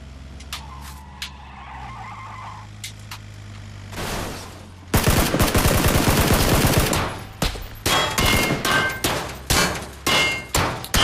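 Gunfire from the battle royale game PUBG: after a quiet stretch of engine-like hum and scattered clanks, loud rapid bursts of automatic shots erupt close by and continue in repeated volleys to the end, with no talking.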